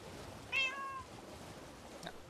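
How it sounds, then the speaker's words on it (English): A single clear cat meow, fairly close, rising and falling over half a second, followed by quiet background and a faint second chirp. "We'll let that cat in here."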